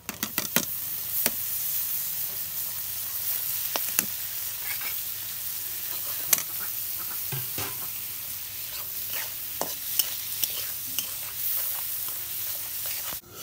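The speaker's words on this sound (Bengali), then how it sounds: "পেঁয়াজটা নাল নাল হচ্ছে, এখন আমি শুটকি মাছ দিয়ে দেবো।" Dried fish fries with browned onions in a hot pan, giving a continuous close sizzle broken by frequent sharp scrapes and knocks as the mixture is stirred.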